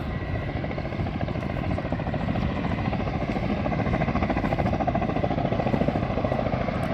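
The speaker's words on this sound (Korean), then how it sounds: "소방용 헬기가" A firefighting helicopter carries water from a reservoir to a wildfire near a walnut orchard, its rotor thudding in a steady rapid beat over a constant engine drone, loud and unbroken throughout.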